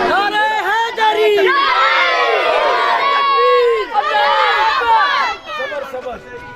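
A crowd of many voices, including children, shouts the religious slogan Nara-e-Haideri in loud, overlapping, continuous cries with rising and falling calls.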